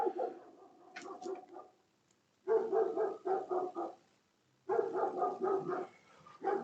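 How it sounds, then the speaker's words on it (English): Neighbouring dogs bark next door in bursts of rapid, repeated barks, two long volleys after an earlier shorter one, moderately loud and with no talking over them. "Next door's dogs are off, lovely."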